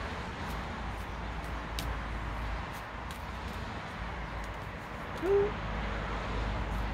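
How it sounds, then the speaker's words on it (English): Outdoors, a single short hoot-like bird call rises once over steady background hiss and low rumble, otherwise quiet. "Thank you, little bird."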